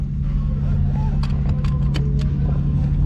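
A BMW engine revs hard in the dark, a loud steady roar that fills the short stretch while someone talks over it.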